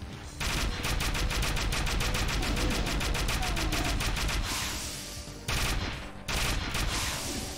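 Rapid weapon fire in the video game Doom II, a loud dense burst of shots that continues for several seconds, thins briefly, stops, then resumes twice.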